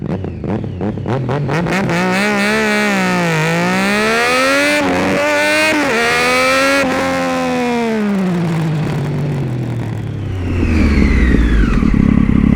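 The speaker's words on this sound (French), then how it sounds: "Maintenant que la moto est bien chaude, on va faire un petit 0 à 100." Triumph Daytona 675 motorcycle accelerating hard from a standstill to 100 km/h, its engine note climbing loud and close through several gear changes with brief dips between shifts, then fading into wind and road noise at the end.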